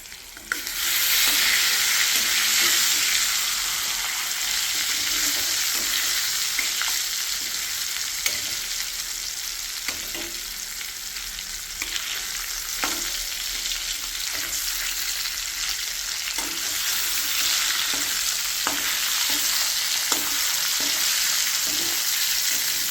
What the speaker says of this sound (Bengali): এবার আর একটা মাছও দিচ্ছি পাশ দিয়ে।